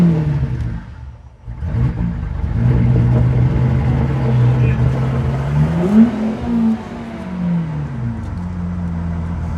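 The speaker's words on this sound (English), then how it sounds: "this car, as it splutters fuel at me, has a V12" A V12 auction car cranks and fires up, settling into a rough idle before the engine revs up and back down, loud and close.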